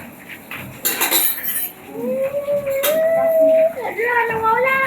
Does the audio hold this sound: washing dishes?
yes